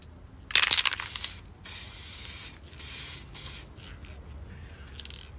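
Aerosol spray paint hissing in several bursts, one loud and others steadier, as a coat goes onto parts of a Stihl 08 chainsaw being rebuilt, close by with no talk.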